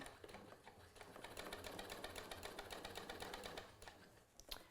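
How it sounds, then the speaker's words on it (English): A sewing machine stitches a lapped zipper seam at regular stitch length, a rapid, even mechanical chatter close by that runs continuously and slows slightly at the end. "So I'll begin stitching and back tack."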